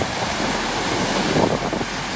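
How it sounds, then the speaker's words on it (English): Ocean waves smash against the rocks at Devil's Churn on the Oregon coast, a continuous, loud roar of surf and churning water mixed with wind buffeting the microphone, with no voices. "Just have waves hitting, smashing up against the rocks."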